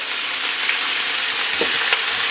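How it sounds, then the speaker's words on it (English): Pork steaks sizzle loudly in a pan with caramelizing onions, giving a constant close hiss with a few faint pops and stirring scrapes. "in with the pork steaks we go"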